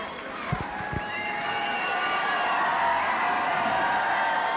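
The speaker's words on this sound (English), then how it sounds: "that ever-present Potsdam cheering section urging them on" Potsdam State fans at a 1986 NCAA Division III basketball championship game, a large indoor crowd roaring and cheering in a sustained, swelling wash, with a few sneaker squeaks or thumps early on.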